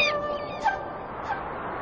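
Birds call in the open, with a few short, nasal, honking cries standing out over a soft, steady background.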